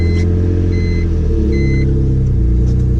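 A BMW E46 M3 engine rumbles loudly and steadily, its pitch shifting as it revs up in gear, with no talking.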